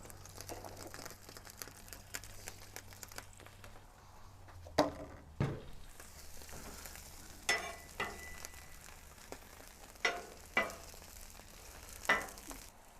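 Mushrooms sizzle on a griddle in a steady, quiet fry, broken by sharp repeated clicks and scrapes of a spatula turning them, with a low hum at the start.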